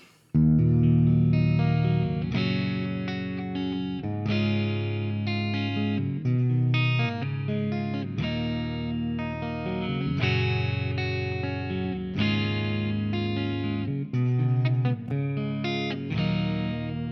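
An electric guitar through a BOSS chorus pedal on preset 1 and 4 plays chords and arpeggios with a shimmering, wavering modulation effect and some grit, continuous and fairly loud throughout, with no talking.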